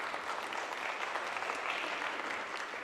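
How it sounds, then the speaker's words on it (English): An audience at a conference talk applauds a presenting team, a soft, steady patter of clapping heard at a distance throughout the short stretch. "I want to request you all to give an applause to my team here"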